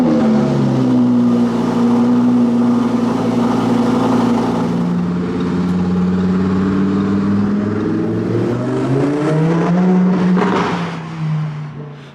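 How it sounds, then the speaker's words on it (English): A Mercedes-AMG A45 S engine on a cold start, its loud, steady low exhaust rumble holding a deep idle with slight rises in pitch, then easing off near the end. "it's time for a nice cold start of the A45 Spider"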